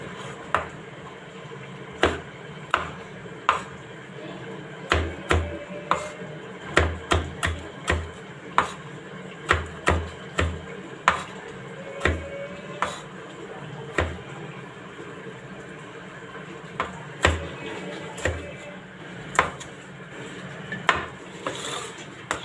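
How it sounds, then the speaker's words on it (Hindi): A knife chops green chillies on a board in a home kitchen making the Delhi-style aloo qeema, sharp irregular taps in bursts with short pauses, close and clear over faint room hum. "हम अपनी हरी मिर्चा काट लेते हैं।"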